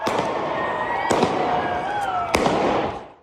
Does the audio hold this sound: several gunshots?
yes